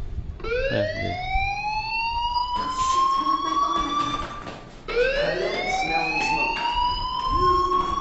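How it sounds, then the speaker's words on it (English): A fire alarm in the video game Life Is Strange wails loudly with a rising, siren-like tone that sweeps up twice and sounds alone without any talking. "Hey, do you hear that fire alarm?"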